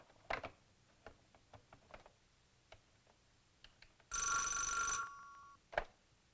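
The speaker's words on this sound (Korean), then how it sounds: "개철명 전화 왔습니다." A telephone bell rings in one loud, shrill burst in a scene from a Korean feature film, standing out against quiet ticking and faint room noise, with no voices during the ring.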